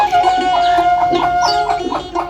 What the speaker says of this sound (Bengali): এই মুরগির বাচ্চাগুলো আজকে দুই দিন হয় ফুটছে